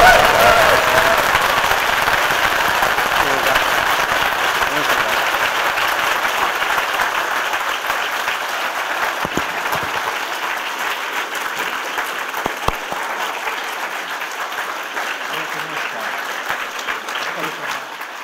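An audience at a Junji Ito conversation event at TCAF 2019 breaks into sustained, loud applause that starts strong and slowly tapers over about eighteen seconds, a dense crowd clapping with no talk on top.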